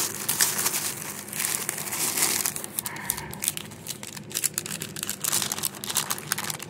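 A small paper snowflake envelope is opened and handled up close. Continuous crinkling and rustling of paper continue throughout, with sharper tearing and crackling bursts in the later part.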